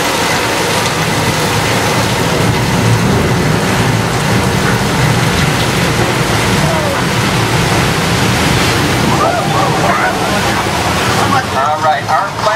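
Simulated flash flood effect on the Universal Studios Hollywood backlot: a loud, continuous roar of rushing, pouring water and heavy spray that holds steady throughout, easing slightly near the end.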